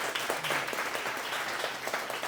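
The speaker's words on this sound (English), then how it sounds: "No, you can clap at that." An audience at a Democratic women's luncheon breaks into sustained applause, dense overlapping clapping filling the room at a steady moderate level.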